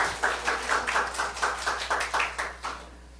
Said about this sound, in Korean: 그렇게 하실 하나님께 박수 올려드립니다